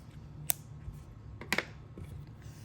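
Scissors snip a long piece of black yarn in a quiet room, two or three short crisp cuts spaced about a second apart, close and faint.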